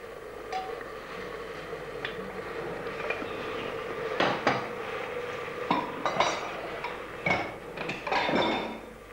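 Metal spoon scrapes and clinks against a cooking pot while bitter gourds (karela) are gently mixed, a series of irregular bright clatters over a soft, steady background hiss.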